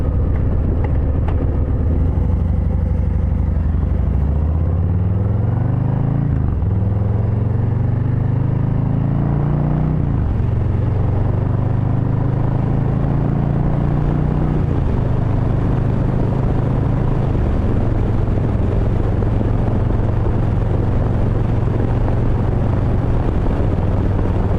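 A 2023 Harley-Davidson Low Rider ST cruising at highway speed, its steady engine drone rising and dropping through several gear changes with wind noise underneath, loud and continuous throughout with no talking.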